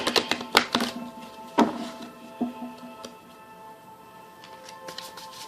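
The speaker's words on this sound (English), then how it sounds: "Sorry for the ice sucking, y'all." Chopped ice crunched and sucked close to the mouth, a handful of sharp clicky crunches early on that thin out into occasional faint taps.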